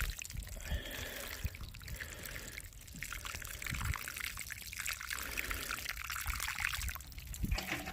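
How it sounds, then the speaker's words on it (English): Water trickles and splashes steadily into the soil of potted veronica plants, a close continuous pouring sound with soft irregular gurgles and no talking. "All I need to do then is give them a good water."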